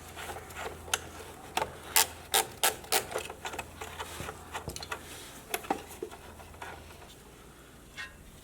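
A wrench works loose a 13 millimeter bolt on the back of a Jeep TJ fuse block, making quiet, irregular scraping and ratcheting clicks close by, in short uneven bursts.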